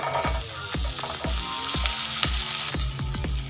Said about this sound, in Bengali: গ্যাসের ফ্লেমটা মিডিয়ামে রেখে দু তিন মিনিট ভেজে নিয়েছি